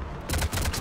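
Rapid bursts of gunfire in a Mass Effect 3 firefight against husks, several loud shots in quick succession with a low thumping body, close and dominant with no talk over them.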